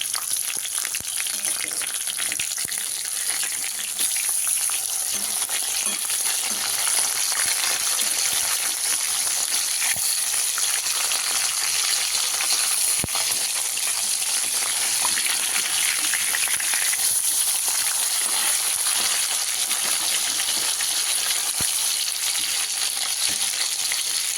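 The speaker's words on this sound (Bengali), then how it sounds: "মাছগুলোকে বেশ সুন্দর করে ফ্রাই করে নেব" Pieces of rui fish fry in hot oil in a pan over a medium gas flame, giving a steady, dense sizzle that runs unbroken and fairly loud throughout, with a few faint clicks and no talking.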